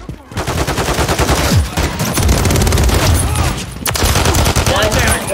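Rapid, dense gunfire from the Call of Duty Modern Warfare 3 video game, with continuous automatic bursts and heavy shots packed close together, loud and sustained throughout alongside a voice.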